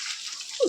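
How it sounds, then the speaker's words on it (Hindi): A shower in a home bathroom, switched on by accident, runs with a steady hiss of spraying water. The flow is close and continuous, with a brief splash or gurgle near the end and no talking. "शावर चालू हो गया, मुझे पता नहीं था कि यहाँ से होता है।"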